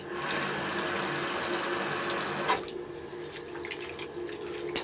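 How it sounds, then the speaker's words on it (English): Water runs from a tap into a basin holding conditioner for prewashing passion twist hair, a loud steady rush that cuts off abruptly halfway, leaving faint drips and sloshing. "If you need more water, just add a bit more."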